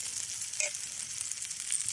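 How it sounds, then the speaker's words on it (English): Bread sizzling in a hot pan of butter on a twig stove outdoors, a steady crackling fry with a faint clink partway through. "Just frying the bread off now. With the excess butter."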